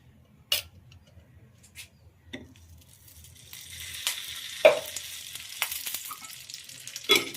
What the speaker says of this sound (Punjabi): ਹੁਣ ਆਪਾਂ ਇਸ ਨੂੰ ਦੇਸੀ ਘੀ ਦਾ ਤੜਕਾ ਲਗਾਵਾਂਗੇ